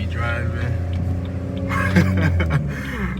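A BMW 340i lowered on coilovers drives in Sport Plus mode, its engine a steady low drone from inside the cabin, while people talk over it.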